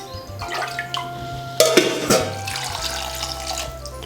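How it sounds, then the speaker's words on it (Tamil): Water splashes and pours into a pressure cooker holding washed baby potatoes and salt, a close, steady running sound with a few metallic knocks and drips. "அது முழுக்கிற அளவு தண்ணி வச்சுருக்கேன்."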